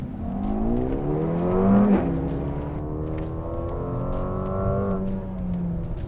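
A Mercedes-AMG engine and exhaust pull hard under full throttle, revs climbing loudly through gears with a brief shift dip, close and dominant with no talk.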